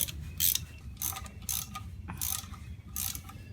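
A ratchet wrench working on a bolt at the timing cover of a 1977 Toyota FJ40 Land Cruiser, with bursts of clicking strokes and brief pauses, moderately quiet and close in a garage.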